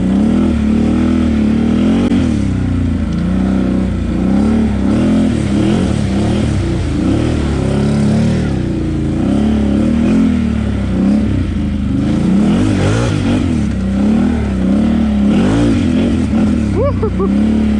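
A Can-Am Outlander 850 XMR ATV on 32-inch Aztex tires revs and accelerates hard, its engine and clutch rising and falling in repeated loud, close surges with clattering, and a person talks over it.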